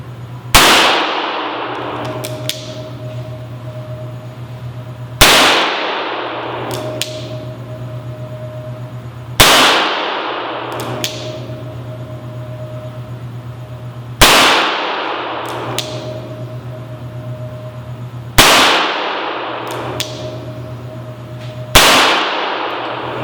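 A Chiappa Rhino .357 revolver fires six loud sharp shots spaced a few seconds apart outdoors, each crack trailing into a short ringing echo over a steady low background hum.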